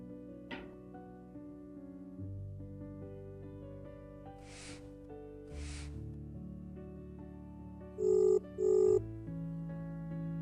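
A telephone rings twice in short bursts near the end, over a sustained soft musical background in an emotional Hindi short film scene.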